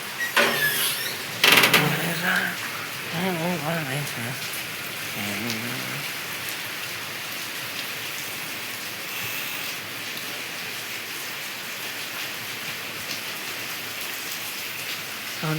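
Heavy rain pours steadily with wind, a dense, continuous hiss close by, while a voice talks briefly near the start before the downpour carries on alone.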